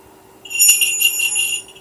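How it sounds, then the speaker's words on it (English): Small bells jingle in a bright, shimmering cluster that starts after a brief pause and rings steadily, close by, with no voices. "What's that jingling? It's a little jingle bell."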